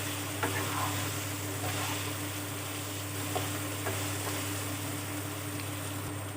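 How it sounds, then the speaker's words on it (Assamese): Potatoes and sliced vegetables frying in a pan over a medium gas flame give a steady, close sizzle and crackle, with occasional soft stirring scrapes. "এইখিনি এতিয়া মই গেছটো মিডিয়াম ফ্লেমত ৰাখি অকণমান ভাজি ল'ম"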